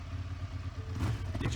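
Inside a dark tunnel in a video game, a vehicle engine starts and revs with a low, throbbing rumble that climbs and roughens toward the end of the short burst.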